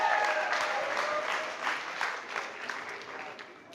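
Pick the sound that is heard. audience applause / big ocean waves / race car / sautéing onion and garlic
audience applause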